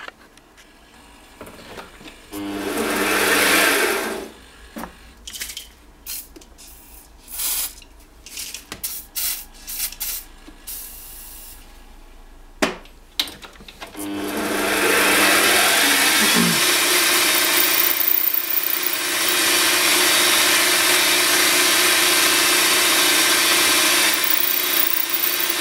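A micro lathe drills with a 5mm twist drill bit, with intermittent scraping bursts at first, then a long, loud, steady whirring grind through the second half.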